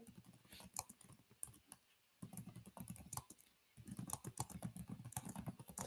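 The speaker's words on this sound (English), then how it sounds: "I'm just going to type in here, write me a property." Typing on a computer keyboard while entering a property listing, with quick irregular bursts of close key clicks and a couple of brief pauses.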